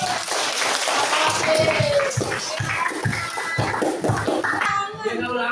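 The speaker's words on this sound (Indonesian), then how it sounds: "Oke, tepuk tangan dong" Students in a chemistry class clap their hands in a dense, steady patter close by, with voices talking over the clapping throughout.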